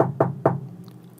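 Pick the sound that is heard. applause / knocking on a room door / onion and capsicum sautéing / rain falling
knocking on a room door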